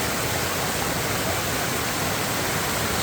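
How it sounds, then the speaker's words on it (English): Small waterfall pouring into a river near Talybont, Wales, after heavy rain, a steady close rushing wash of water that holds even and unbroken throughout. "Small waterfall coming down into the river."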